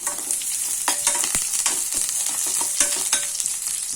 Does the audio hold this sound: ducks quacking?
no